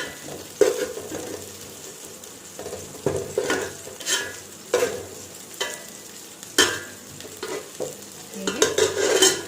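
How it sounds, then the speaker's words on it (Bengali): Fresh young jackfruit from the tree frying in a pan while a spatula stirs it, giving a soft, steady sizzle broken by repeated scraping strokes at an uneven rhythm, close and clear with no talking. "এঁচড়টাকে ভেজে নিলাম।"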